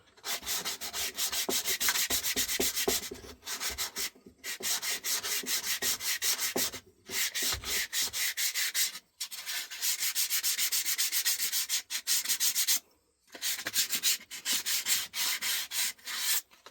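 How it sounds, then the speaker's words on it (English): Sandpaper rubs back and forth over a scrap wood fishing float in close, steady strokes, broken by a few short pauses. "I'll get back to you when I'm done fiddling with the sandpaper."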